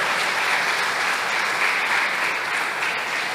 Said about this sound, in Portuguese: Dá uma salva de palmas para Jesus pela vida do Rafael